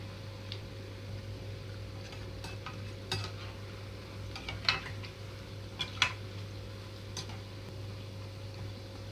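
Pakoda batter frying in hot oil, a soft steady sizzle with scattered faint clicks and light scraping taps of a utensil against the pan, fairly quiet and without voices.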